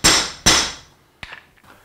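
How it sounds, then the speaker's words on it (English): Metal hammer blows drive a part into the front suspension of an Austin-Healey Bugeye Sprite. Two loud, sharp ringing strikes come in quick succession, followed by a couple of lighter taps that fade out. "If you're not going to use a press, at least double hammer it so you don't damage it."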